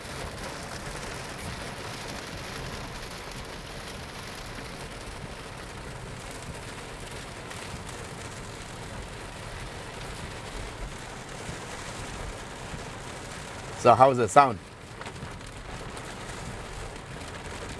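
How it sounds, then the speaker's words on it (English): Heavy rain drums steadily on the roof and glass of a Honda City hybrid hatchback, heard from inside the cabin as a constant hiss, with a brief spoken question near the end. "you don't hear anything except the pitter-patter of the rain"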